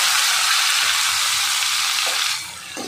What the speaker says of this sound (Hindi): ये मैंने तेल में जीरा छोड़ दिया है, और ये टमाटर,